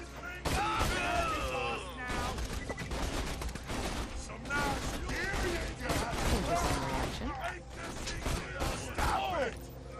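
Gunfire and mechanical clatter from a Borderlands 2 shootout fill the scene with repeated bursts and sharp shots over steady game noise, with busy, loud action throughout.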